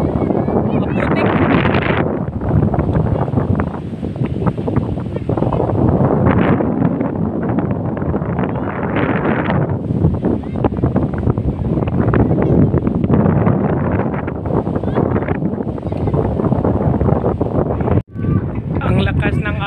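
Strong wind buffets the microphone in loud, roaring gusts, with rushing water noise beneath, continuous for the whole stretch.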